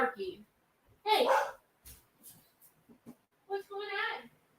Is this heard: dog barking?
yes